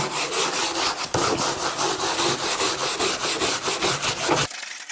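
A scrubber worked briskly across a car dashboard during a dash restoration, making loud, close, rhythmic back-and-forth scrubbing strokes with a brief pause partway through, and no talking.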